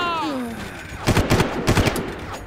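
Gunfire in the first-person shooter Far Cry sounds as rapid bursts of automatic shots in quick clusters, close and loud, after a short stretch where someone speaks in German.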